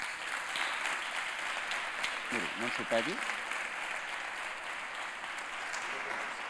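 Applause at a local journalism awards ceremony rolls on as a steady crowd clapping for Jordi Grau, with a brief voice speaking over it midway.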